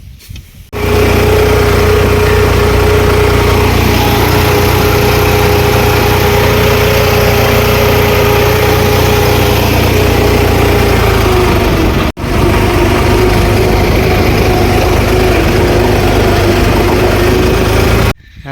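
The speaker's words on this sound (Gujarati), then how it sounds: "જો ટ્રેક્ટર આવી ગયું છે" A tractor running in a farm field, giving a loud, steady engine drone that holds nearly unchanged for the whole stretch apart from one brief cut.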